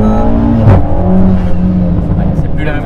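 A car fitted with an Evox ValveTronic exhaust and Gruppe M intake revs under full load, a loud raspy exhaust note climbing steadily with a sharp crackle partway through.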